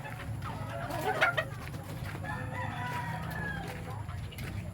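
Gamefowl roosters of sweater and McLean Hatch breeds crow outdoors, a couple of strained crows rising over a constant low background hum, with someone talking faintly.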